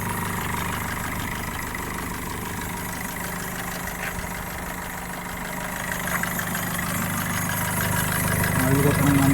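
A 2019 Maruti Suzuki Vitara Brezza VDI diesel engine idles with a steady, even mechanical hum and a slight rise near the end, while a voice talks over it.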